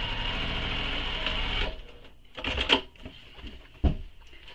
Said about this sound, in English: Now we're just sewing a second seam just to the outside of those stitches we just